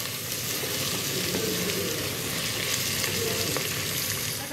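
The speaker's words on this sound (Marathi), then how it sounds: "तर थोडे हे अजून गोल्डन ब्राऊन होईपर्यंत आपण ह्याला परतून घ्यायचं आहे." Onions frying in a pan until golden brown, a steady close sizzle and crackle of hot oil that holds evenly throughout, with no talking.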